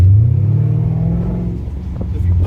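A Mercedes CL550 on 22-inch wheels accelerates up a narrow hill road, a loud, close low engine rumble that swells briefly, eases through the middle and builds again near the end, with no talk over it.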